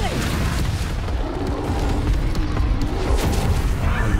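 In the Hogwarts Legacy video game a bomb goes off with a dense, loud, rumbling blast that sustains for several seconds, full low-end roar with crackling debris layered over it, no talking.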